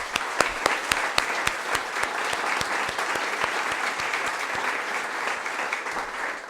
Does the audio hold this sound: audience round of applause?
yes